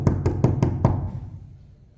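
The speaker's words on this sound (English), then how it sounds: "I've just knocked at the door of girls' room." Five quick, evenly spaced knocks on the door of a girls' room, sounding sharp and close in a quiet dormitory hallway early in the morning, and then fading into a soft ambient hush.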